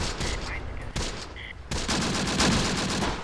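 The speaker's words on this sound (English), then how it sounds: "All right, we've got a machine gun" Machine gun fire crackles in the video game Close Combat: The Bloody First, in rapid repeated bursts of shots layered with other gunfire, loud and continuous throughout.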